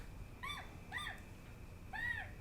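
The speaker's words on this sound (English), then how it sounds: "I'm gonna wear that squeak box out" Three short, high squeaky toots sound in a loose rhythm, nearly identical, each a quick rising-and-falling squeal from a squeeze toy nearby.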